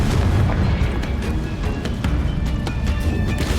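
Confringo blasting spell explosions in the Hogwarts Legacy video game, a steady, loud run of deep booms and bursts with sharp pops scattered across a few seconds.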